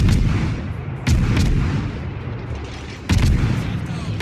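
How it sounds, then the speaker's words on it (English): Warship guns firing in the video game World of Warships: two heavy booming salvos about two seconds apart, each with a sharp onset and a long rumbling tail over a steady low engine and sea drone. "So I start shooting him again."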